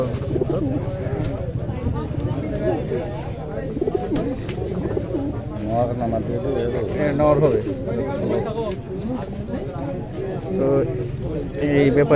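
Pigeons cooing at a busy market, low throaty coos repeating under constant nearby chatter and bargaining voices.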